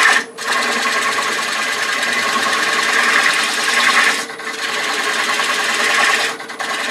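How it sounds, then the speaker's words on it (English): A wood lathe spins a Bradford pear bowl while a bowl gouge nibbles at the tenon, a loud, steady buzzing rasp broken by a few brief gaps where the tool lifts off the wood. "I'm just going to nibble away this little tenon here."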